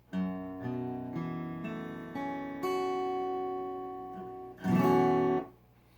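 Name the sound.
acoustic guitar open strings with capo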